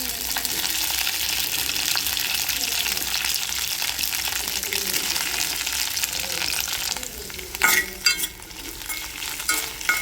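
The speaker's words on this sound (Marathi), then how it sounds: "आता आपण जी भेंडी कट केली ती कट केलेली भेंडी त्याच्यामध्ये ॲड करूया" Cut okra fries in hot oil with a bright, steady hiss and crackle, up close, then gets stirred with louder scraping and clattering near the end.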